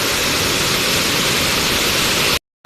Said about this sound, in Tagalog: Narinig mo yung agos ng tubig